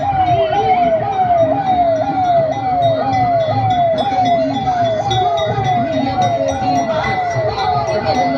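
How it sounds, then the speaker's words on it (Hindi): A free government ambulance sounds its wailing siren as it passes the saluting stage during a Republic Day parade in Lucknow, loud and close with a steady rising-falling cycle over crowd murmur and faint announcer speech. "ये उत्तर प्रदेश शासन का निःशुल्क सेवा का एम्बुलेंस वाहन सलामी मंच के सामने से गुजर चुका है"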